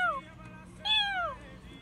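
A person imitates a cat's meow with two short rising-and-falling vocal mews, close to the microphone, separated by a brief pause over low room noise.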